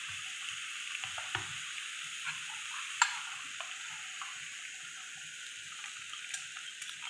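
Chicken curry with coconut milk is stirred in a pan, giving a steady low sizzle with soft scraping strokes and a sharp clink near the middle, close by and moderately quiet.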